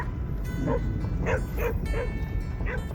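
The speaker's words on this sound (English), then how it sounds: "here's my neighbors with their 26 dogs" Several dogs bark and yip in repeated short bursts over steady background noise at a Texas campsite, a lively chorus at moderate distance.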